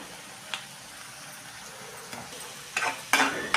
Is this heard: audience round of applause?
no